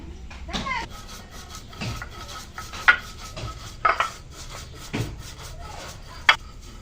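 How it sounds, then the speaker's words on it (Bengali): Cumin seeds ground by hand on a shil-pata grinding stone, with repeated rough scraping and rubbing strokes in an uneven rhythm and occasional sharp stone knocks, close and moderately loud. "তরকারি রান্না হতে হতে আমি এই যে জিরাগুলো এখানে নিয়েছি, গুঁড়া করে নেব।"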